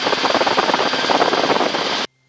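Helicopter rotor and engine in flight, a loud steady throbbing drone with rapid rotor pulsing that runs continuously and then cuts off abruptly near the end.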